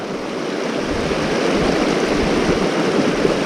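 A rocky mountain creek crossing on the Missouri Mountain approach rushes loudly and steadily, a close, broadband wash of flowing water with no voices.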